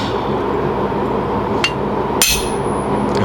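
Hammer driving a blunt chisel against the edge of a metal spatula blank, two sharp close strikes ringing out over a steady background hum, no talking.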